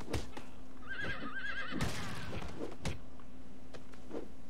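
A horse whinnies in the Steed game prototype, giving a wavering, quavering neigh in the middle of the clip. Heavy thumping footfalls and game sounds surround it.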